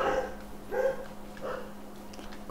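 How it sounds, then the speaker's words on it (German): Dogs barking in the background of a Tekkit Lite Minecraft play session: three soft, muffled barks spaced about a second apart under a steady hum. "Meine Hunde bellen."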